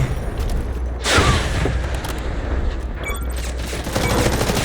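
Heavy gunfire in the shooter Delta Force, dense overlapping shots in a loud continuous barrage close by, with a brief flurry of sharper cracks toward the end.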